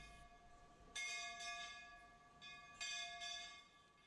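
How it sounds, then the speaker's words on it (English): Touch-free sensor-operated bell at a Shiva temple in Mandsaur, ringing in several sharp metallic strikes with long, shimmering decays, close and clear with no voices. "a bell with a sensor has been installed which can ring without the need for physically touching it"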